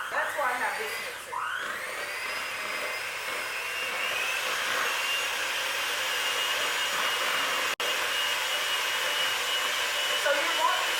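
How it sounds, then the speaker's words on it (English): A handheld electric mixer whips butter in a bowl, giving a steady, close, high-pitched motor whir with faint beater rattle that runs unbroken for about eleven seconds apart from one very brief cut. "start using your handheld mixer or whatever mixer you have at home"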